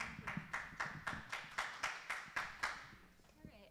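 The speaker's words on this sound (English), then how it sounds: "I'd ask for this forum that we refrain from applause" Audience applause at a community forum, a patter of hand claps in regular bursts of moderate loudness that thin out and fade toward the end.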